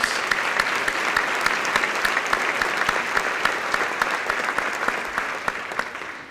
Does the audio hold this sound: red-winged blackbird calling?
no